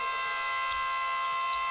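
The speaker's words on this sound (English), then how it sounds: "Buzzer sounds." A basketball game buzzer sounds at a Korea versus Australia FIBA Asia Cup qualifier, one sustained, harsh electronic tone held loud and steady for nearly two seconds.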